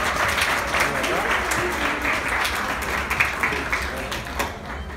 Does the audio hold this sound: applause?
yes